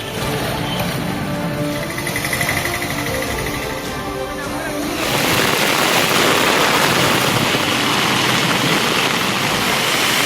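The Periyar waterfall in Kallakurichi district, swollen by heavy rain into a reddish flood, gives a loud, steady broadband roar from midway on, after an earlier low rumbling hum.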